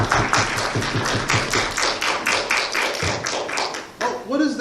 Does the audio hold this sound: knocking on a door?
yes